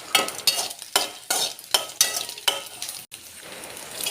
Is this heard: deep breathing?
no